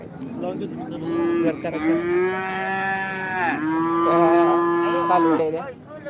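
A cow moos loudly and close by at a livestock market, two long drawn-out calls one after another.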